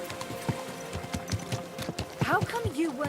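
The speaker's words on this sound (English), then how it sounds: "Easy, good horse." Horse hooves clip-clopping in the video game Kingdom Come Deliverance 2, quick rhythmic close thuds with a brief whinny-like voice sound near the end, mixed with speech.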